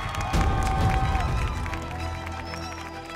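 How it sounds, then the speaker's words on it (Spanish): Studio audience at the grand final of the TV talent show Talento Rojo cheering and applauding loudly for finalist Javiera Jorquera, a dense sustained roar of crowd noise and clapping with music underneath. "Fuerte el aplauso esta noche para Javiera Jorquera."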